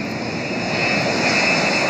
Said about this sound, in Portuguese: mostrando uma das fases de testes do KC-390, o novo avião cargueiro da FAB